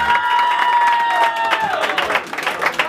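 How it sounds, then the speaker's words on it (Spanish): Applause and crowd noise at a quinceañera celebration with a mariachi band, steady clapping mixed with cheering and a sustained tonal sound, loud and close, lasting throughout. "Y ese aplauso bien fuerte"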